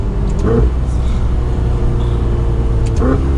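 Ferrari 488 Spider, rear-wheel drive, cruising at speed on a twisty back road, its engine droning steadily with road rumble beneath a driver talking over it.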